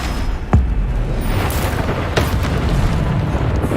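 Bombarda explosion spells burst in Hogwarts Legacy, with two sharp, heavy booms over a steady rumbling backdrop of game sound.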